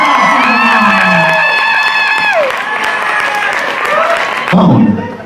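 A studio audience at a queer drag competition show claps, whoops and cheers loudly and steadily, with a host's voice carrying over the crowd noise.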